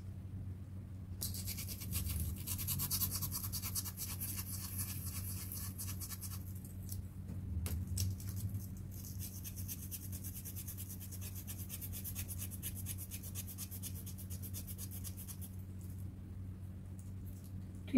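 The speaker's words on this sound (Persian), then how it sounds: "توی کار کمی خش ایجاد میکنم با سنباده آهن" An iron sandpaper scuffs a work surface to roughen it for glued turquoise inlay work, a quiet, continuous rhythmic rasping of repeated rubbing strokes that runs steadily throughout.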